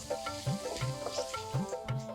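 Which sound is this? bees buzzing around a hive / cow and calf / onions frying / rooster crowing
onions frying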